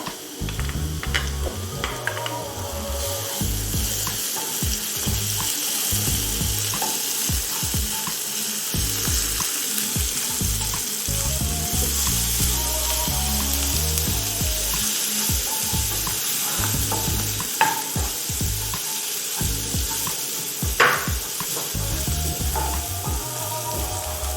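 Garlic and ginger fry in a pan for sweet and sour meatballs, with a constant loud sizzle and a repeated mechanical clicking and rattling running under it the whole time, and no talking.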